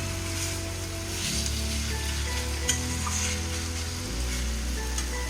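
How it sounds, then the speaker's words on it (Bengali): Chopped green chillies fry in oil in a pan while being stirred, a steady close sizzle with scraping stirs and a low background hum, no talking. "এটা একটু নাড়াচাড়া করবো।"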